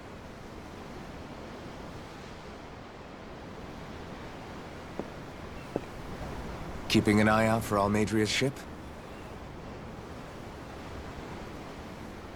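Steady ocean waves wash under the whole scene in the video game Tales of Arise, a soft continuous surf hiss with a short burst of one person talking near the middle.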